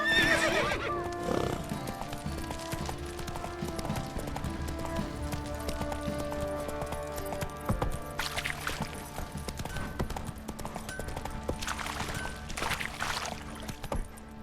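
Roach, the horse from The Witcher 3, gallops with rapid rhythmic hoofbeats that run steadily under game music and ambience, broken by a short whinny near the start.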